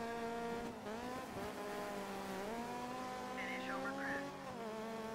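Race cars in the video game Dirt 3 whine faintly, engine pitch rising and falling through gear changes, with a short tire squeal midway.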